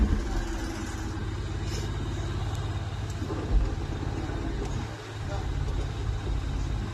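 A Mahindra Supro BS6 van with a hard gearbox and a failing clutch runs at idle, a steady, close, low engine rumble with a brief dip near the end.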